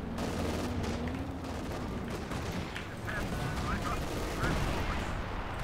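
Tank combat video game battle audio with dense, rumbling gunfire and explosions running throughout, loud and continuous, while a player talks over it.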